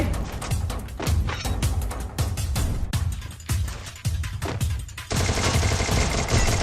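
Rapid gunfire from a Free Fire battle, with dense overlapping bursts of automatic shots and single cracks that go on loud and close without a break, joined near the end by a brighter, steady mechanical rattle.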